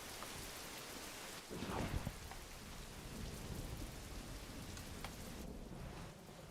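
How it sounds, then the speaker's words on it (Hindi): Steady heavy rain pours down with a constant hiss, briefly swelling louder near the start, no voices. "इस बारिश को भी अभी आना था।"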